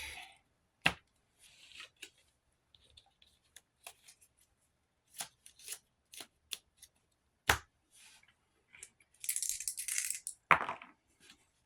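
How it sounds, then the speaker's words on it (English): Cards are shuffled and snapped together, with scattered light clicks and taps, then a longer riffle near the end, close and fairly quiet. "gonna shuffle that back into the item deck."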